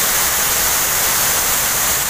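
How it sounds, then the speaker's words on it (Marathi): A waterfall near the Sheel Vel Mahadev temple roars as a dense, continuous rush of falling water, loud and unbroken throughout. "बघा धबधबा पाठीमाग"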